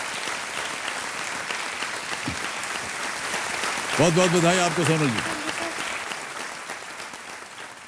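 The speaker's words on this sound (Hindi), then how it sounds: "तालियां बजती रहे इनके लिए।" Studio audience applause on the Kaun Banega Crorepati game show, steady dense clapping filling the whole stretch while a host speaks over it.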